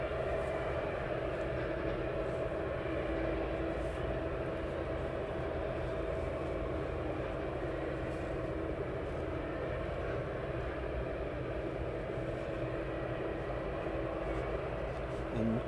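An aircraft auxiliary power unit runs at East Midlands Airport, a steady, unbroken mechanical hum and whine holding level throughout, with a voice talking faintly at times.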